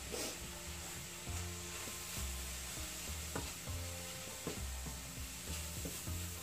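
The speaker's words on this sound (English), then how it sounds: "This is just to kind of let these spices cook a little bit and release their natural oils." Curry spices, about four teaspoons, cooking in a pan for a coconut chickpea curry. A steady sizzle runs throughout, broken by repeated close scrapes and clacks of a utensil stirring at an uneven rhythm.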